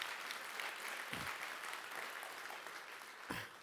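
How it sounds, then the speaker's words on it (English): A theatre crowd at a Birmingham AI kickoff at Red Mountain Theatre claps in a sustained round of applause, dense and steady, heard from some distance with a couple of low thumps mixed in. "So give yourself a round of applause."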